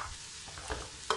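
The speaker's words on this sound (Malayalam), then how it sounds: "ഈ സമയത്ത് നമുക്ക് ഇതിലേക്ക് മുന്തിരി ഇട്ട് കൊടുക്കാം." Raisins dropped into hot ghee in a pan while cooking a Kerala beef biryani, giving a steady soft sizzle with light stirring scrapes and a brief sharper crackle near the end, with no voices.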